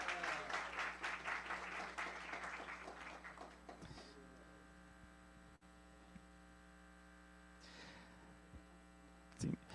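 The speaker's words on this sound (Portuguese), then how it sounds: "peço uma salva de palmas calorosa para ela" A lecture audience at an innovation week talk gives warm applause to welcome a speaker, a round of clapping over a steady electrical hum that fades out after a few seconds, leaving the hum with faint scattered noises.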